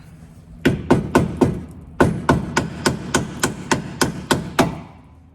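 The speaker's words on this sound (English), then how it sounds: "Hammer time." Sharp hammer strikes ring out close by in a steady rhythm, about fifteen blows with a short pause after the first few, hammering on a broken shock mount of a Suzuki Samurai.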